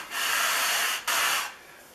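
Sole of a Stanley No. 129 Liberty Bell fore plane rubbed on 150 grit sandpaper, two long even rasping strokes back and forth, close and fairly loud with no talking.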